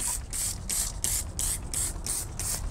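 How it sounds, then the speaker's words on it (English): A hand foam sprayer pumps Chemical Guys cleaner onto a truck in eight quick, evenly spaced hissing bursts, close and fairly loud, with no talking. "So check this out when I spray it."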